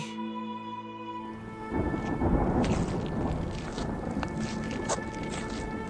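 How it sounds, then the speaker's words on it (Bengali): A cartoon storm scene brings a thunderclap rolling in over heavy, dense rain that keeps pouring steadily throughout, loud and unbroken with no talking. "প্রবল বৃষ্টি, ঠান্ডায় কাঁপছে।"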